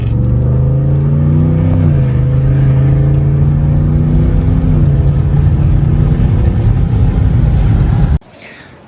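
Car fitted with a Corsa exhaust, still with catalytic converters and a resonator, revving loud and close in a continuous deep droning rumble that rises and falls in pitch before cutting off abruptly near the end.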